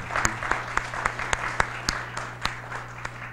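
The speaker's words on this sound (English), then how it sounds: "I think they deserve a round of applause." An audience at an educational forum at Yavapai College applauds steadily, a moderate crowd of clapping hands heard from a short distance with no voices over it.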